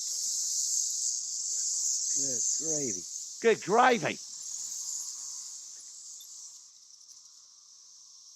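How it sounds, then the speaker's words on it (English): A summer chorus of cicadas played back from an online recording, a loud continuous high buzz that holds steady from start to finish while someone talks briefly over it. "the sound of cicada summer"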